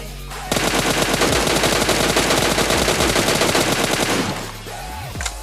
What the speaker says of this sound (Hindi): ये उजी वाले बंदे ने सामने से फायर किया